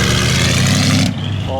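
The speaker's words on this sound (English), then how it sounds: "Eight-cylinder Alfa Romeo, beautiful." An eight-cylinder Alfa Romeo engine rumbles loud and close at a classic car concours, then drops away abruptly near the end, leaving quieter background and a voice.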